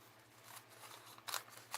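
Scissors snipping through paper for an art journal page, a few quiet crisp cuts with two sharper snips near the end, close and alone.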